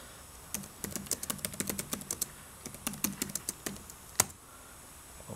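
Someone types a name on a computer keyboard in a quick, steady run of close key clicks, pausing briefly before a final sharper keystroke, with no talk.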